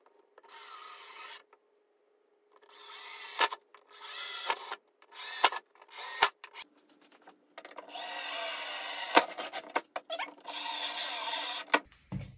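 A drill with a 1/8 bit bores out aluminum rivets on an Airstream awning window frame in repeated short bursts, each with a rising whir and gritty bite as heads pop off, separated by quiet pauses; no speech.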